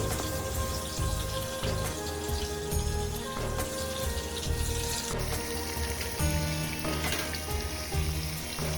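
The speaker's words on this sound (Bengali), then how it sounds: "এখানে আমি কিছুটা কাঁকরোল কিছুটা রাঙা আলু কিছুটা গাজর কিছুটা ক্যাপসিকাম আর বিনস ভেজে নিচ্ছি" Teasel gourd, sweet potato, carrot, capsicum and beans fry in oil, giving a steady, close crackling sizzle that runs throughout with small pops and spatters.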